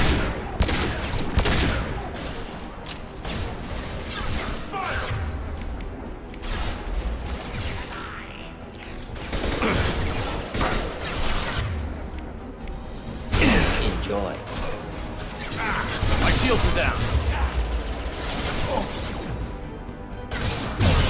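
Gunfire in the video game Mass Effect 2 rattles in dense continuous bursts with crashes and whooshes, loud and chaotic, with voices shouting over the battle.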